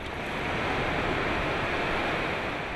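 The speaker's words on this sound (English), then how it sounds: "The unceasing song of the Texas surf is a sensational sound." Texas surf breaks along the Gulf shore at Corpus Christi, a steady, unbroken wash of waves at moderate volume, with no one speaking.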